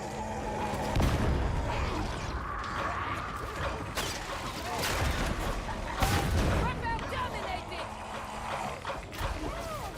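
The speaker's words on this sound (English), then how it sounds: "Here, the exploding barrels." Barrels exploding in the Warhammer 40K Darktide video game, several heavy booms and crashes spaced a few seconds apart amid gunfire and combat noise, with a voice talking throughout.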